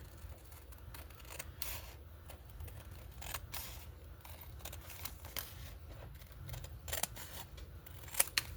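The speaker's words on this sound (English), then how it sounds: "I'm going to snip off at the top here." Scissors snip through a paper window envelope up close, giving faint crisp cuts and paper rustles spread irregularly over a quiet background.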